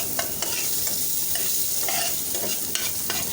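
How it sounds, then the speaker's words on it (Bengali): Onions and dried chillies fry in a small amount of oil left over from frying potatoes, giving a soft, close sizzle broken by repeated scraping stirs. "এখানে কিন্তু একদম অল্প তেল মানে আলু ভাজার তেলের মধ্যে আমি এগুলো ভেজে নিচ্ছি"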